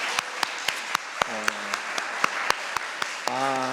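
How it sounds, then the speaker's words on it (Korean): Church congregation applauding at a Wednesday service at an air force base chapel, with sharp claps ringing out at regular intervals over a steady crowd wash, while a voice speaks in short phrases under it. "우리 하나님께 다시 한번 영광의 박수 올려드리겠습니다"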